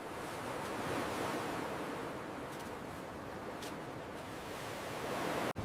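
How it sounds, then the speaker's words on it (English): Ocean surf at a seaside on a sunny day makes a steady, soft, hissing wash that fills the whole stretch, with a few faint lighter splashes near the middle. "I am walking by the ocean."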